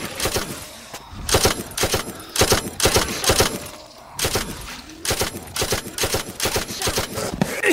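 MG-80 machine gun in a zombie shooter, fired in loud rapid bursts separated by short pauses, close and sharp with a clattering rhythm.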